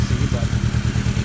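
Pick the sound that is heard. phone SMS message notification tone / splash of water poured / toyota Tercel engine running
toyota Tercel engine running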